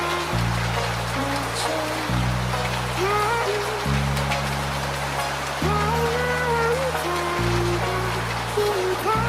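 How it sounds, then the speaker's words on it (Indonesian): Steady rain hisses and patters without letup, a dense, even wash of falling water, while sustained low musical tones rise and fall over it in blocks. "kebetulan sekarang lagi hujan"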